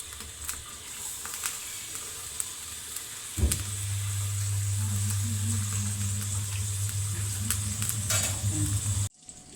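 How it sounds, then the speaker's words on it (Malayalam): Fish drops into a heated pan and bursts into a loud, steady sizzle that continues for several seconds at close range before cutting off abruptly, with faint kitchen clatter before it starts. "മീൻ വറുക്കാനായിട്ട് ചട്ടി വെച്ച് കൊടുത്തിട്ടുണ്ടേ."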